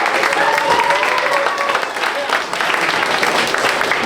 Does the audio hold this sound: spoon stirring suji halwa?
no